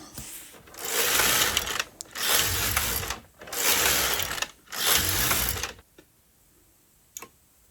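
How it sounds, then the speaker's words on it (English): A bulky knitting machine knits rows of mohair cuff yarn, four long loud mechanical whirring passes of the carriage, each about a second, separated by short pauses, ending with a quiet click. "So I'm just knitting 10 rows here."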